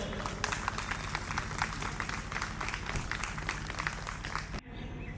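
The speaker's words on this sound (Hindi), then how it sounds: "तो भंडारी जी का भी एक बार तालियों से स्वागत किया जाए" Steady applause from a crowd at an International Yoga Day gathering in Chandigarh, dense and continuous for several seconds, then cutting off abruptly near the end.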